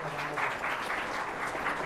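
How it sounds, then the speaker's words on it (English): Audience applause at a law and constitution dialogue event, a steady, even patter of clapping from a crowd held at moderate level for about two seconds, with no voices over it. "I think you can greet this with a round of applause."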